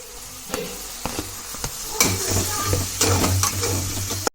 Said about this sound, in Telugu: బ్రౌన్ కలర్ వచ్చే వరకు వేపుకుందాం ఉల్లిపాయలని